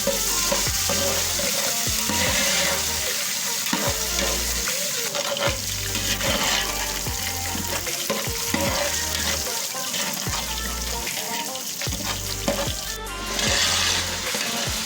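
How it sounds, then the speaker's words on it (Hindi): Garlic hits hot oil in a pot for chana pulao, making a loud, continuous frying hiss with watery crackle and rhythmic spoon stirring scrapes, close by and with no talk. "मैं लहसुन डालने लगी हूँ, चम्मच लहसुन डाल दिए।"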